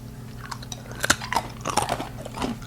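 Someone bites into and chews hard, crunchy homemade peanut brittle baked in a sheet pan, giving close, irregular crunches and cracks that are fairly quiet, with no talking.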